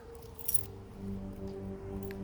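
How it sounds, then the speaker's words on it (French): Keys on a key ring jangle in a brief metallic clink burst near the start, followed by a low steady hum outdoors beside a wire fence, with no talk. "j'ai mon trousseau de clés."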